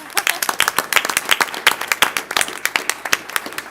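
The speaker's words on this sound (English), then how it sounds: "Let's give them a round of applause." A school board meeting audience claps in a brisk burst of individual, sharply separated hand claps, moderately loud and close, lasting a few seconds.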